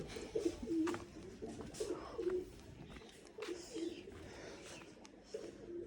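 Three pigeons coo repeatedly at close range, soft low rhythmic calls recurring every second or so over quiet background rustling.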